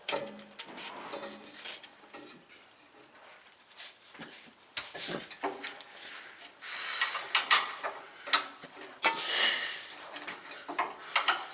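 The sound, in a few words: bolt being threaded into air dryer bracket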